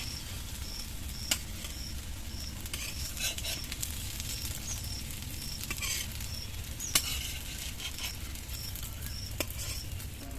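Prawns frying in oil until reddish, for a pumpkin and prawn dish, give a steady, close crackling sizzle with scattered sharp pops throughout. No one speaks.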